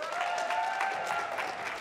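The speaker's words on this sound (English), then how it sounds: "So please, a big round of applause for Nat Cook." Symposium audience applause, a short burst of scattered clapping from a seated crowd, steady and moderately loud throughout.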